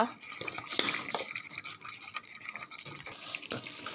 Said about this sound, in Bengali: একটু হালকা করে জল দিয়ে দিলাম